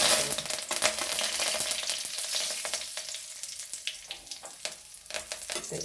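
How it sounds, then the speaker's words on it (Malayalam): Dried red chili and curry leaves frying in a hot pan for idli, a steady close sizzle with crackling pops throughout and no talking. "ഒരു വത്തലമുളക് ഇട്ടത് കൂടെ കരിവേപ്പില ഇട്ട്"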